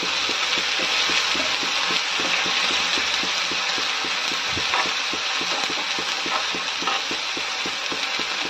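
Ginger garlic paste frying in a pan with onions, a steady close sizzle with scraping stir strokes running throughout, loud and without talk.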